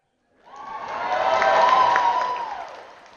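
A political rally crowd breaks into a swell of cheering and applause, rising quickly, holding steady for a couple of seconds, then fading away; no one speaks over it.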